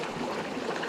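Small trout stream trickling and gurgling close by, a steady, even babble of running water with nothing else over it.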